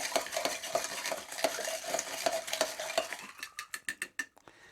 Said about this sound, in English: The spoons don't really work too well, so you kind of have to just churn it